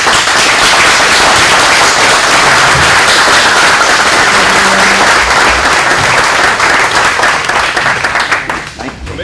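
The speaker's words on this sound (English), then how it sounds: "we all owe Mr. Schulze a warm round of applause" A room at a Gibson County Commission meeting breaks into warm, sustained applause for an honoured guest, loud and dense with scattered claps, some voices mixed in, then tapering off at the end.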